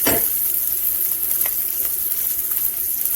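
Small chopped onions sizzling in a pan, a loud continuous frying hiss with a faint stir or two near the start, no voices.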